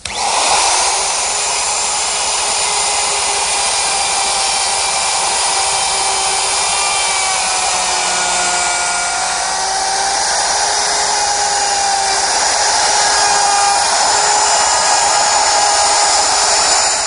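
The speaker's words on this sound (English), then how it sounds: "I'm going to use my router with a collar and a straight cutting bit" A router fitted with a collar and a straight cutting bit cuts a rabbet in wood, producing a loud, steady high-pitched whine with a slight shifting pitch as it moves along, no speech.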